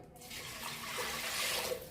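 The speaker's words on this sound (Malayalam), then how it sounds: "വെള്ളം ഒഴിച്ച് നമുക്ക്" Water pours into a pressure cooker holding turmeric-seasoned dal for sambar, a soft continuous splashing stream that swells slightly toward the end, with no talk.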